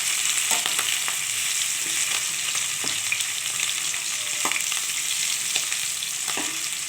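Fish pieces frying in hot oil over a high gas flame give a continuous crackling sizzle with scattered sharp pops and spits, close up and alone.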